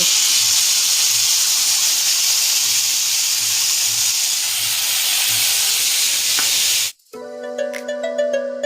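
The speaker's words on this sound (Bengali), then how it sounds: "কড়াইতে ফোড়ন দিয়েছি মৌরি আর একটু শুকনো লঙ্কা দিয়ে" Fennel seeds and dried chili sizzling in hot oil in a wok make a loud, steady hiss that stops abruptly, followed by brief clattering and ringing tones.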